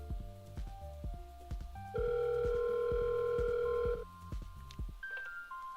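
A phone call rings in the X-Plane 12 flight simulator inside a CL650 business jet cockpit. One steady electronic ring tone lasts about two seconds over a continuous background hum, then a brief higher tone follows, with no talking.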